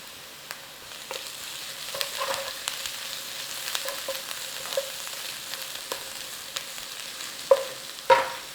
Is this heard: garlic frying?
yes